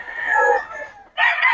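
A rooster crows twice, close and loud, the first call drawn out and the second starting after a brief pause.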